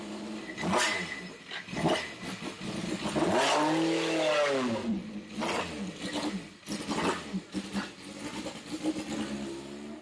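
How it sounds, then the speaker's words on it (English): Vintage race car warming up in the paddock at Lime Rock Park Vintage Fest, its engine revving up and down repeatedly, with one long rising and falling rev in the middle, loud and close. "they'll be starting her up pretty soon to make sure it's warm to get ready to go out to the paddock"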